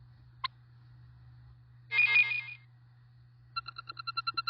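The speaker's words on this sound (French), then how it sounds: "Ça, c'est le signal qui indique une publication." A mobile phone sounds a new-post notification for a blog: a brief tone, then a burst of a chime, then a quick run of evenly spaced electronic beeps, clear and close against a low steady hum.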